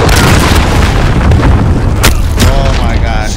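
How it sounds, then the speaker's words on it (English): A cruise missile blast in Call of Duty Modern Warfare, a loud sustained booming rumble with sharp cracks near the two-second mark, heavy continuous low-end roar throughout, and some game voice chatter layered underneath. "Ally cruise missile away."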